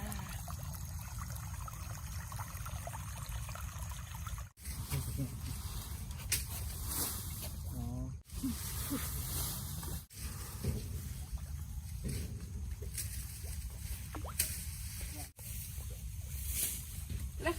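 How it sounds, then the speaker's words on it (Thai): Water runs steadily in a small stream beside rice fields on a family day out in rural Thailand, a continuous close trickle and gurgle, with voices and other activity around it. "น้ำไหลจ้า"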